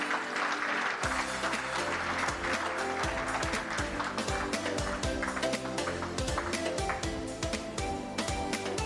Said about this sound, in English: Can we have a huge round of applause for Lakshmi